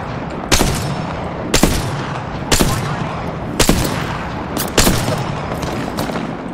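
Repeated gunfire bursts in an Apex Legends match, five or six sharp loud cracks spaced about a second apart over a steady noisy backdrop of combat ambience.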